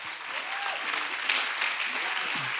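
Church congregation applauding during a state of the church address, a steady wash of clapping across the whole stretch with some voices mixed in.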